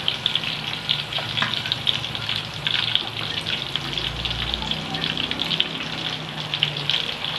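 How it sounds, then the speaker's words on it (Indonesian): Pieces of bacem sizzle and crackle steadily in hot frying oil, a continuous bright spitting texture at close range with a low thump midway and no talking. "minyaknya harus sudah panas. Dan menggorengnya jangan lama-lama teman-teman"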